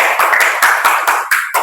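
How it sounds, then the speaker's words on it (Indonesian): A classroom of students claps hands together in a brief, loud burst of rhythmic claps, about eight sharp strikes close by, with no talking. "Tepuk tangan untuk kita semuanya."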